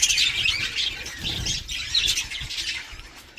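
A flock of budgerigars squawks and chatters continuously, a dense, busy mix of shrill calls with occasional wing flutters.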